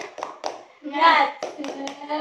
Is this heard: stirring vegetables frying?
no